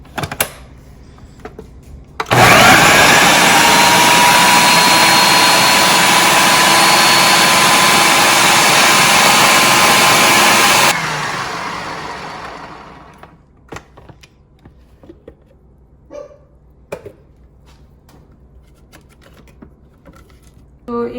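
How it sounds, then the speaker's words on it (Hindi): An electric grinder whirs loudly and steadily for several seconds while grinding chutney ingredients with salt, then winds down, followed by scattered small clicks and taps. "तो एक दफ़ा मैं इसको और चला दूंगी ताकि अच्छी तरह ग्राइंड हो जाए।"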